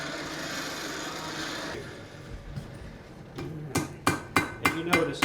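A heated horseshoe is hammered on an anvil while being forged into a door handle, first with a muffled rubbing noise, then five or six sharp ringing blows in a steady rhythm, close and fairly loud.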